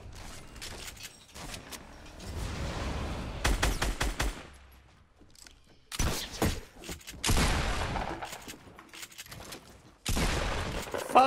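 Bursts of gunfire in the video game Fortnite ring out in several loud, clustered volleys separated by brief lulls, with rapid repeated shots and sharp impacts.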